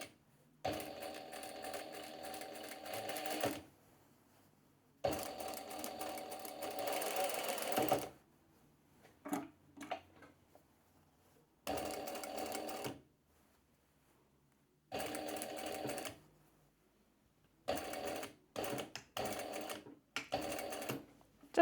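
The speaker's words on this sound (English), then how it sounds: "Just a back stitch to finish it off." A sewing machine stitches a fabric drawstring skirt in several bursts of fast, even whirring clatter, with short pauses between runs and one brief back-stitch.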